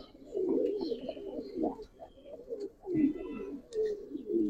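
Pigeons in a loft coo in repeated soft, throaty bursts, fairly close and quiet, with a few faint chirps in the background.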